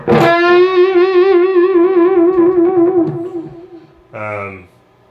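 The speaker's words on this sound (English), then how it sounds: "So doing a vibrato once you get to the top of a bend" A single sustained electric guitar note, distorted and processed through effects, held at the top of a bend with a wide, regular vibrato wobble, ringing clearly and then decaying before a brief second plucked note.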